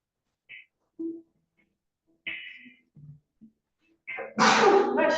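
A single loud sneeze bursts out near the end after a few scattered quiet sounds, sharp and close in an otherwise hushed indoor space.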